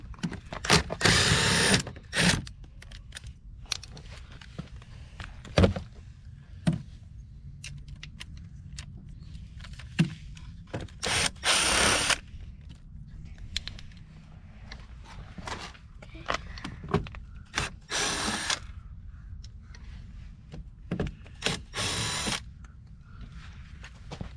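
Impact drill zipping out plastic clips from the rocker molding of a Porsche Panamera 4S, in several short loud bursts separated by quieter gaps with handling noise, no talk.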